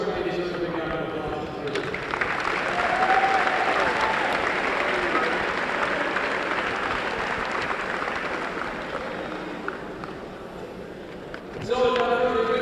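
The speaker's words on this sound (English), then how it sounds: "they deserve a big round of applause" Audience applause for a boys' high school basketball team, a sustained broad wash of clapping from the crowd lasting most of the stretch, swelling early and easing before a voice returns near the end.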